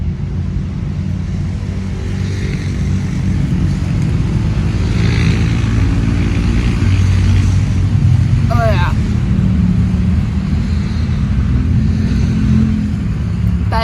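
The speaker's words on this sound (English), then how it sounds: "Please enjoy the ATVers driving by." ATVs passing on a trail at the Grand Canyon North Rim, a steady loud engine rumble and drone that swells slightly as they go by, with people talking over it.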